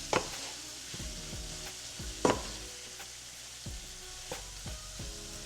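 Sausage and wilted onions sizzle in a pan under a soft, continuous frying hiss. A spoon gives occasional scraping stirs and a few sharper clinks against the pan.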